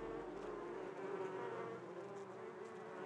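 Potter wasps buzz in the Bardenas Reales desert, a steady, close hum of wingbeats that holds unbroken for a few seconds with no voices.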